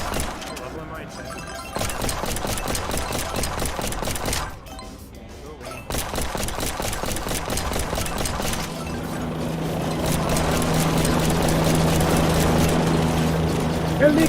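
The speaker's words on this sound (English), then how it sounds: "Helicopter!" A helicopter in a video game drones steadily with a chopping engine sound that grows louder and fuller toward the end, heard under ongoing talk.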